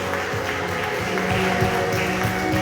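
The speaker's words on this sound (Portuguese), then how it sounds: "Libera aí um aplauso para o Rei da Glória aí, bem forte" A church congregation applauds during a worship service, with continuous dense clapping from a crowd, loud and steady throughout, mixed with background music.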